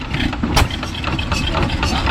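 Fairbanks Morse four-horsepower hit-or-miss engine, a copy of a 1913 design, mounted on a homemade tractor and running with a steady chuffing, loud and near, in outdoor show surroundings.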